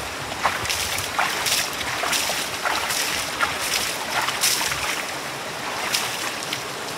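Steady rushing water of a river running over rocks, with a few brighter splashes, continuous and fairly loud with no voices over it.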